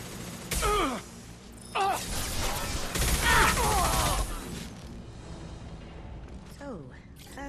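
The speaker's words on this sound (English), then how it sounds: "Shotgun!" Shotgun fire in Mass Effect 2 comes as a few loud, heavy blasts mixed with grunts and gasping voices from the combat, with a longer burst of noise in the middle.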